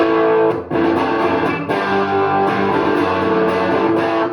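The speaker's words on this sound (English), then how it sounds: "Well, that sounds like a Les Paul" Loud, distorted electric guitar chords from a 2014 Gibson Les Paul ring out through an amp set on 4, sustained and dense, with a brief dip before strumming resumes.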